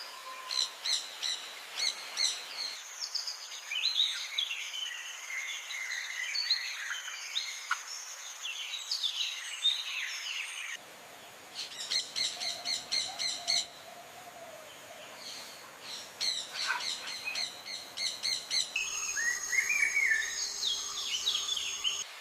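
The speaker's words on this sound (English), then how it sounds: "Flying into number 6 is the gentle giant of the avian world, the stunning hyacinth macaw." Bird calls ring out in repeated harsh chirps and squawks of a hyacinth macaw, in clusters separated by pauses over a quiet background, fairly faint and distant.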